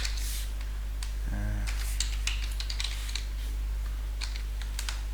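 Steady, fast clicking of keys on a computer keyboard, close up, irregular taps over a constant low electrical hum.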